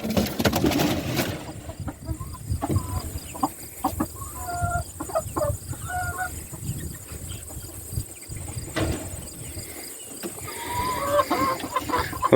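Chickens cluck and squawk inside a mobile coop and run, close and repeated against a steady background of crickets and insects.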